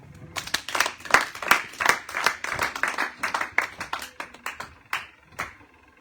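A church congregation at a prophetic service claps in brisk, rhythmic bursts, dozens of sharp hand claps close by that fade slightly toward the end.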